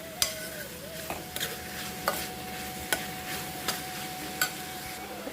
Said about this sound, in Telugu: దీనిలో టమాటా ముక్కలు యాడ్ చేసుకోవడమే ఇవి కూడా వీటితో పాటు మగ్గిపోవాలన్నమాట